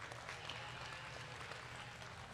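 An audience at a market lamb show applauds the judge with steady, faint clapping that sounds distant and lasts throughout.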